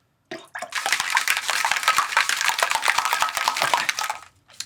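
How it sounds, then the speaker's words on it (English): Hurricane cocktail of grenadine and passion fruit puree poured steadily into a glass, a continuous splashing liquid stream lasting several seconds with small clinks, close and fairly loud. "Then you want to pour it in your glass here."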